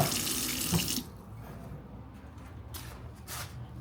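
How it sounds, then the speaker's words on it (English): Water pours from a tap into a simmering pot of ginger tea, a loud gushing stream for about a second, then a quieter bubbling simmer with a couple of short splashes. "Now we're gonna add some water."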